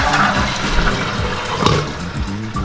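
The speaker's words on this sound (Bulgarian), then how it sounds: "като първо ще освободим водата, която е в казанчето" Water gushes and churns out of a Geberit Sigma concealed toilet cistern as it is emptied, a steady close rushing flush with a brief louder surge partway through, no voices.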